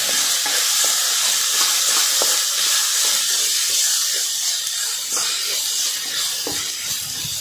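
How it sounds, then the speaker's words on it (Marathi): Peanuts and crushed chili sautéing in a hot pan, a steady loud sizzle and hiss with a rhythmic scrape of stirring, close up throughout. "हे चांगलं परतून घ्यायचं आहे."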